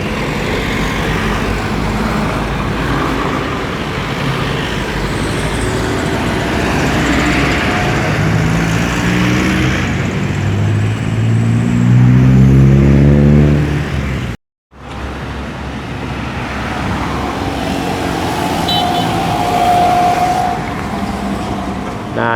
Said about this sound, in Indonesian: pada siang hari ini sekitar jam 12 arus kendaraan cukup padat sekali menuju arah Bukit Tinggi